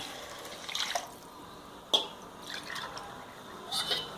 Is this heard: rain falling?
no